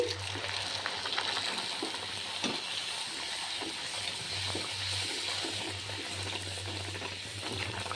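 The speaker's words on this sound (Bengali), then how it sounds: "আলুর দমের পরে এবার লুচিটা ভেজে নিচ্ছি" Luchi puffed flatbread frying in hot oil: a continuous close bubbling sizzle that stays even throughout, with faint scattered crackles and a low hum beneath, and no voices.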